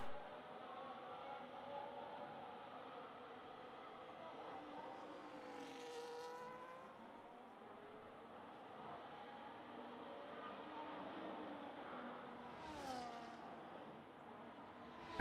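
Race car lapping the Bahrain circuit in a racing video game, a faint rising and falling engine whine with gear changes and pitch sweeps, steady and distant.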